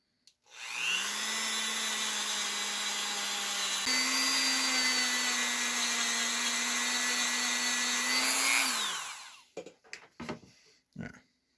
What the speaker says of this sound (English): Go and clean that up with the Dremel tool.